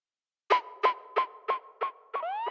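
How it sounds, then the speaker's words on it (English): Electronic wheel siren effect in a speed garage track: six short, evenly spaced siren bursts with echo tails, the last bending into rising pitch-shifted sweeps, clean and alone. "for the wheel siren, there's pitch shifting after the echo."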